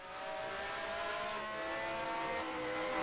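Race cars in a sim racing game whine along at high revs, a steady layered engine drone that stays close and fairly quiet.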